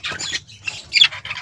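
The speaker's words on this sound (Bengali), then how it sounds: "আর এখানে আমাদের বাকি পাখিগুলো আছে।" Birds in a home aviary give a series of close, harsh squawks, about five bursts in quick succession with short gaps between them, over a faint low background hum.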